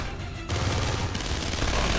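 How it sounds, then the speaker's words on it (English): Unsuppressed gunfire in Splinter Cell Conviction bursts in suddenly after a quiet half second, then keeps up as a loud, dense rattle of rapid shots for the rest of the moment. "I accidentally picked up the non-suppressed weapon."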